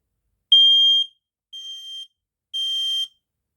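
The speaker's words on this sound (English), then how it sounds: "it is a Quell smoke detector of some sort. So I'll give it a quick test." Three loud, piercing electronic beeps from a Quell smoke detector being tested, each about half a second long, evenly spaced with silence between them.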